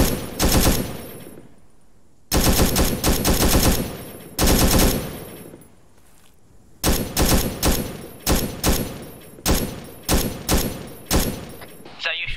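Bursts of automatic gunfire from an Arma 3 Vietnam-era firefight, loud sustained volleys alternating with short rhythmic repeated shots, while players talk over it.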